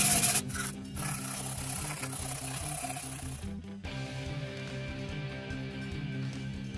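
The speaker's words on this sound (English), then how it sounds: "To round off concave shapes, just wrap a dowel with sandpaper." Sandpaper wrapped around a dowel rubs back and forth over the concave curve of a wooden sword blade, a steady close rasping scrape that fills the clip with a brief pause near the middle.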